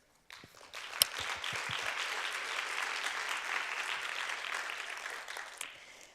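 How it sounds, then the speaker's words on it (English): Audience applause at a talent attraction summit, a steady wash of many hands clapping that starts abruptly and holds at an even level for several seconds before tapering off. "And I think we should give ourselves an applause for very good work,"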